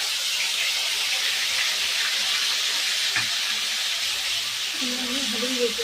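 Chopped green chillies hit hot oil already holding mustard seeds and cumin, setting off a loud, steady, close hiss that stays broad and unbroken, with a voice speaking briefly toward the end.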